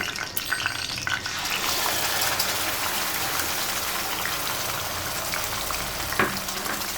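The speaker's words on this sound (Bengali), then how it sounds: "এই পেস্টটা আমি ভালো করে কষিয়ে নেব।" Spice paste for chana masala, added with bay leaves and a cardamom pod, sizzles and spits steadily in hot oil in a pan, a loud continuous frying hiss with occasional stirring clatter.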